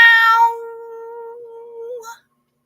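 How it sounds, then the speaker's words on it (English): A house cat lets out a long, drawn-out meow, loud and close, sliding into a wavering tail before a short second chirp ends it, alone with no voices. "Heather Mack, I think my cat is cussing at me right now."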